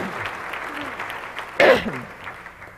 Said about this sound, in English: please join me in applause for Beth's outstanding work and commitment